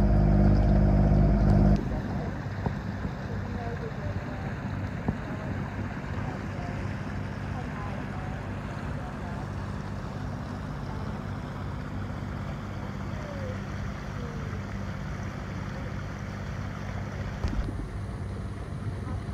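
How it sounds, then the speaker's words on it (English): A sailboat under way in very calm conditions off the Australian east coast near Hinchinbrook and the Palm Islands, with a steady wash of water and wind noise after a brief loud engine-like rumble at the start. "Okay, so we're sailing"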